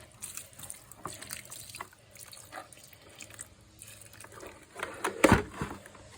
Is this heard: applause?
no